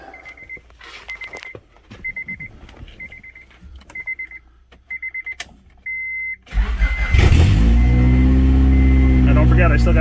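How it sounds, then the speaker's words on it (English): A Honda Accord with a repaired cylinder head and an unfixed exhaust chimes through a string of repeated warning beeps, then the engine cranks and catches into a loud, steady running roar close by. "So at least this way I could start it and run it for a minute, and just to verify that everything sounds good."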